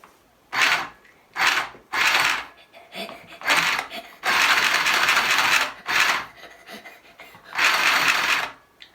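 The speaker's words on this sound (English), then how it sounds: "Mummy's going to help you to sew that on with using the sewing machine" Bursts of rapid mechanical whirring from a sewing machine, starting and stopping several times, each run lasting a second or more, with quiet pauses between.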